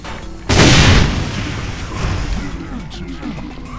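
A loud explosion bursts suddenly in the Brutal Doom Eternal shooter, a heavy boom followed by a decaying rumble with smaller thuds trailing after.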